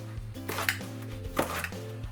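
A kitchen knife slices across rolled-up collard greens on a cutting board, producing a few crisp, close chopping thuds over a low steady hum.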